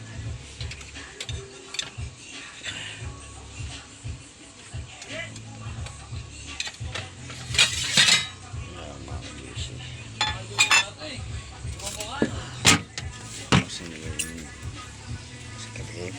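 Plates and cutlery are handled at a meal, with scattered clinks and clatters of dishes, some louder knocks, and quiet talk in the background.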